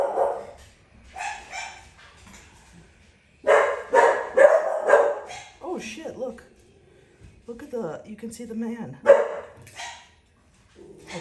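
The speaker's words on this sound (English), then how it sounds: "Sorry about my dogs." Several dogs bark and yip loudly indoors in repeated bursts, with some whimpering between them. A person talks over the barking nearby.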